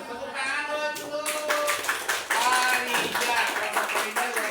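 Classroom applause for a student group, a burst of many hands clapping close by that rises and continues throughout, with a voice briefly heard at the start.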